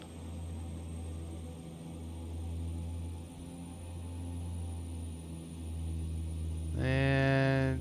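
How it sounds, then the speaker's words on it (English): Twin turboprop engines of a Saab 340 in a flight simulator drone steadily at idle, then swell near the end into a louder, rising propeller whine as takeoff power is set. "Let's sync the heading bug. Synced, and we'll set takeoff power."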